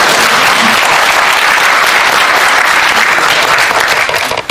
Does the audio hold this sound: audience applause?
yes